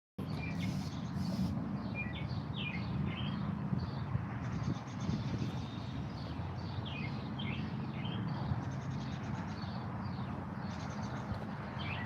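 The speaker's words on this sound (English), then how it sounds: "Everywhere I go, the birds talk." Birds chirp and sing outdoors in repeated short bright calls over a steady low background rumble, moderately distant and fairly faint.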